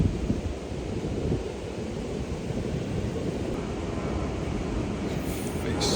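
Strong wind buffets the microphone on a sunny riverbank beside the River Thames during barbel and chub fishing, a steady loud broadband roar with low rumbling gusts throughout.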